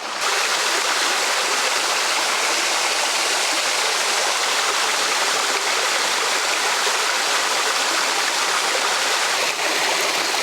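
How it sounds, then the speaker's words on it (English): A waterfall pours in a loud, steady, broadband rush that holds constant throughout, close by, with no voices. "I'm looking for a good composition to get this waterfall"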